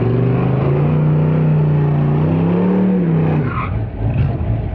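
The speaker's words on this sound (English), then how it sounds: "Man, this car sounds good." A Ford Mustang drag car at a dragway idles with a loud, steady, lumpy rumble, its low throb wavering slightly before fading into a rougher, uneven idle near the end.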